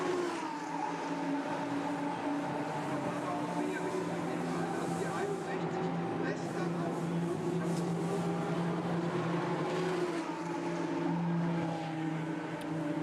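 Lamborghini Super Trofeo race cars at the Nürburgring pit lane, a steady engine drone with shifting tonal whine held at moderate distance under continuous commentary.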